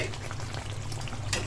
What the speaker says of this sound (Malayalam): കേട്ടോ, നല്ല തിളച്ചുകൊണ്ടിരിക്കുകയാണ് കറി.